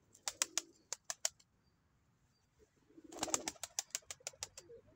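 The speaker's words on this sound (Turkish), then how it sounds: "Kızım ötmeye başladı bak ötüyor." Pigeons in a loft coo softly at a distance among sharp bursts of wing flapping, the flaps coming in quick rhythmic runs at the start and again toward the end.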